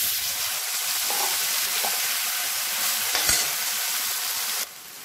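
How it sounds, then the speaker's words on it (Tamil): Grated carrot frying in oil for carrot halwa, a loud continuous hiss and sizzle with faint stirring taps, cutting off abruptly near the end. "இப்போ அதே எண்ணெயில் நம்ம அரைச்சி வச்ச கேரட்டை வந்து சேர்த்துக்கலாம்."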